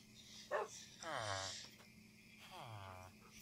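A dog in modded Minecraft 1.12.2 gives two faint, drawn-out bark-like yelps a couple of seconds apart, set against a low game background with a short click before the first.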